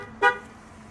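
A brief, bright electronic chirp from a Maxus T60 pickup as its keyless entry unlocks, a single short tone rising clearly above a faint steady background hum.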